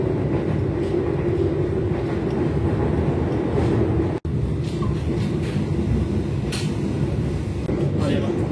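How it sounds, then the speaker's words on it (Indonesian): The Purwojaya executive express train departs Purwokerto station and runs on the rails, a loud continuous rumble and rolling rail noise close by, with faint clacks over the steady roar. "kereta api Purwojaya sudah diberangkatkan dari stasiun Purwokerto tepat pukul 16:02"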